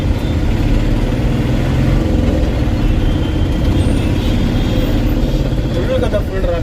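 Heavy road traffic jam with cars and trucks, a dense, loud, continuous engine rumble and drone filling the scene, with a voice talking over it.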